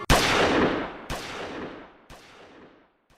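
Three gunshots as a sound effect, each a sharp loud crack with a long decaying echo, spaced about a second apart and fading in strength, with no voices.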